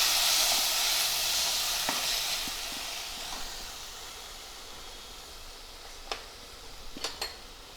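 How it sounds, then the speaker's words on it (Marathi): Tomato sautés in a pan for dal, starting as a bright, close sizzle that slowly fades to a softer hiss, with a few faint ticks and clinks near the end. "टमाटा टाकायचा, याला परतून घ्यायचे."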